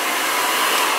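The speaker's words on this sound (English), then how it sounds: "make sure you dry the hair in all directions" A hair dryer blows steadily on hair during a classic flattop haircut. The airflow roars loud and close in a continuous broadband rush, with no pauses or voices.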